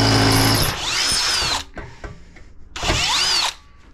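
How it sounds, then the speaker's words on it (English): A power drill with a 3/8-inch bit widens an existing hole in a North River Seahawk boat during a radar mount installation, in two loud sustained bursts with a rising whine and a rattling gap between them. "now we're gonna put the 3/8 and actually extend the hole"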